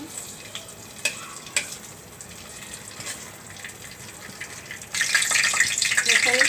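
A bay leaf fries in mustard oil in a pan, a faint crackle with a few light taps, then the sizzle suddenly swells into a loud, hissing burst for the last second and a half.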